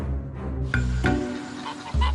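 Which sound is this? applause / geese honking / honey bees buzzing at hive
geese honking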